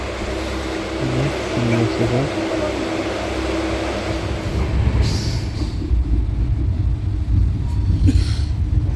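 Howrah Barmer Express train running, a steady low rumble and rattle of the moving carriage heard from inside, with a voice speaking over it.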